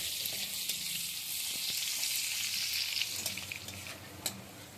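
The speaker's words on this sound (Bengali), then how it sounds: "পেঁয়াজটা একটু ভেজে নিচ্ছি" Chopped onion sizzles in hot oil in a pan, with panch phoron and a pinch of asafoetida, a steady close frying hiss with occasional small crackles and stirring clicks, no voices.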